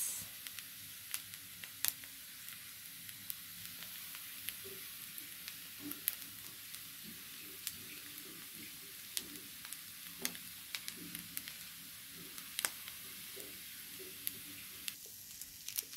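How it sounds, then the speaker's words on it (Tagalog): Fried rice with egg, hotdog and chicken sizzles in a pan, a soft, continuous hiss broken by scattered crackles and stirring scrapes. "Simpleng pagluluto lang po ng fried rice"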